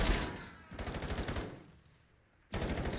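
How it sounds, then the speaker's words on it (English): Rapid automatic gunfire crackles through a 4v4 video game gunfight, with dense bursts of shots, a short lull as the firing fades, then a sudden loud burst. "You're going to have a full 4v4 gunfight."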